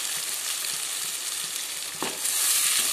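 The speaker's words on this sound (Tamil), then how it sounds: "அதனால் நல்லா ஆயிலே நல்லா வதக்கிடுங்க." Mint rice gravy paste sautéing in oil in a pan, a dense steady sizzle with faint scraping stir strokes and a brief clunk near the end, close and loud with no talking.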